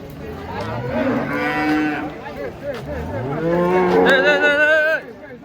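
Large contest cattle moo loudly and close by, several long drawn-out lowing calls one after another, the last ending abruptly.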